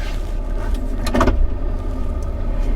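A truck engine idles low and steady as it pulls trailers out of a lot, with a brief louder mechanical clunk partway through and no talk.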